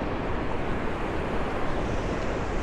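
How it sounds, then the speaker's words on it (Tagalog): Strong ocean surf pounds Legian Beach in Bali, a continuous loud rushing roar mixed with wind buffeting the microphone. "Lakas ng alon."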